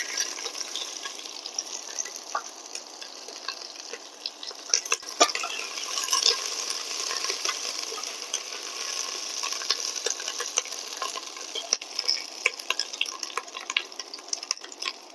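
Chopped medium onion frying in oil in a pan, a steady crackling sizzle with scattered sharp pops running throughout, close and fairly loud, with no voices.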